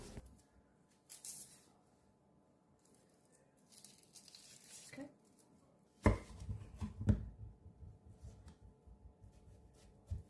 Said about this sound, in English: you'll see me chop and peel my onion